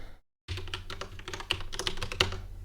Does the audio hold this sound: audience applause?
no